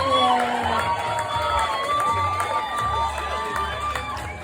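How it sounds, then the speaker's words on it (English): Crowd cheering and whooping at an old-school pinup contest for a contestant introduced with her 65 Chevy truck, rising and falling shouts and high voices over a steady background, with some talk mixed in. "Let's give a big round of applause for the fabulous Miss Sally Wagon."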